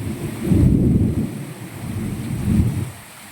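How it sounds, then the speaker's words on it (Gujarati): Deep rolling thunder rumbles twice over a steady wash of monsoon rain in Moti Gop, Gujarat, loud and close, with no voices. "એક ધારી વીજળી ચાલુ છે"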